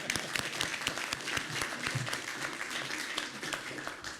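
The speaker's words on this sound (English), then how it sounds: "big round of applause to catching the mayor off guard" A small crowd gives a round of applause at a transportation policy board meeting, steady, moderately loud clapping that continues for several seconds.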